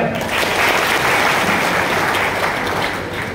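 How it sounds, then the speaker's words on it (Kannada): A crowd at a Banajiga community meeting breaks into sustained, dense applause, loud and continuous throughout with no pause. "2A ಮೀಸಲಾತಿ ರಿಸರ್ವ್ ಮಾಡಿರೋ ಒಂದು ಚಪ್ಪಾಳೆ"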